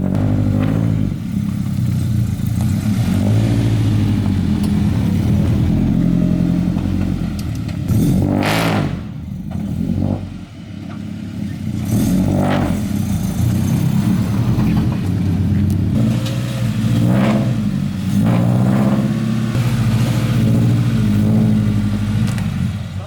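A Scion FR-S engine idles and rumbles steadily up close, with occasional revs and shifts in pitch as the car is driven slowly up onto a trailer.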